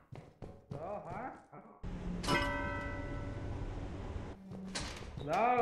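A bell in the video game Lethal Company rings in one sustained, resonant chime that fades slowly, with people talking before it and again just after.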